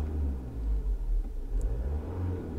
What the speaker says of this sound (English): So I'm just going to accelerate the engine and just see.